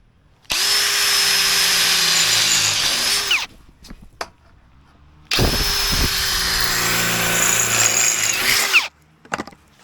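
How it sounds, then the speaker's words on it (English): A handheld power drill bores a series of holes through a wooden deck railing plank at a holiday home build, two long steady whining bursts close up with short clicks and pauses between them. "Now it's just drilling lots of holes."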